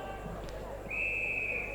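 A long, steady siren or whistle sounds at an Australian football match to end play, rising clearly above the distant crowd and ground noise for about a second.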